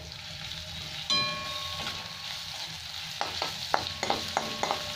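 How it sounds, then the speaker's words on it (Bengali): Steady sizzle of potatoes and onions frying in a pan with ginger paste, a sharp metallic clink near the start, then a run of quick scraping stirs toward the end. "2-3 মিনিট এখন ভেজে নেবো আমি"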